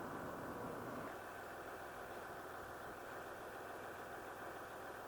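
A Land Rover Discovery LR3/LR4 engine idles steadily and close by while its air suspension lowers the rear; a low, even rumble holds throughout, with a brief fuller burst at the start.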